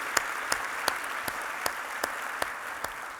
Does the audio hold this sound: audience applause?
yes